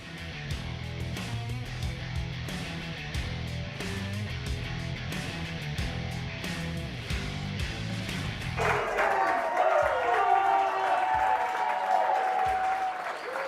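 A lively studio audience at a Kansas City Chiefs football talk show with a Chiefs punter as guest breaks into loud, sustained applause and clapping after a musical intro, the crowd noise rising and holding strong to the end.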